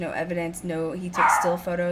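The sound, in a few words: dog barking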